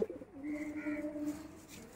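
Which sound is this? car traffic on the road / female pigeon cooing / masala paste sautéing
female pigeon cooing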